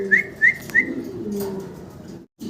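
A large male Mundian pigeon coos low and throaty nearby, while three short, bright whistling chirps ring out early on.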